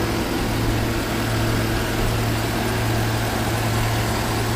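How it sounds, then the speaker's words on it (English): A 2013 Chevrolet Suburban LTZ's V8 engine idles with a smooth, steady low hum and an even mechanical rumble, heard alone and unchanging for the full few seconds. "Nice, smooth running, clean engine compartment."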